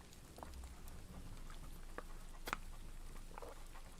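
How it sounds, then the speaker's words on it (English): Irish rain falls in a soft, steady patter with scattered sharper drops tapping nearby, fairly quiet and continuous without any talk. "Authentic Irish rain noises."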